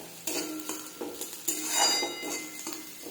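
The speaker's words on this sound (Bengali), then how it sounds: "পেঁয়াজটাকে একটু লাল লাল করে ভেজে নেব।" Onion frying in a pan, with a soft sizzle beneath repeated scraping and clinking of a utensil stirring against the pan, close and steady, no voices.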